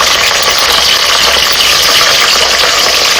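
Grapes and green chillies frying in ghee for ghee rice, a loud, steady hiss of sizzling fat that fills the whole stretch with no pauses and no talk.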